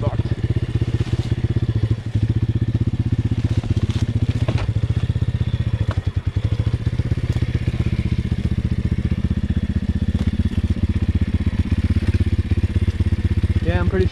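Apollo RFZ pit bike with a swapped 150cc engine ridden down rough ground, its engine droning loud and steady throughout with clattering thumps and knocks from the terrain, close and continuous.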